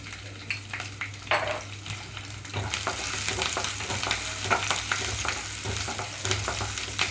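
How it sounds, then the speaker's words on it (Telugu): Garlic cloves and green chillies frying in hot oil for garlic rice, a steady crackling sizzle that grows busier partway through, with repeated stirring scrapes close by and no voices. "ఇక్కడ వెల్లుల్లి రెమ్మలు కొంచెం కలర్ మారే వరకు వేయించుకోవాలి"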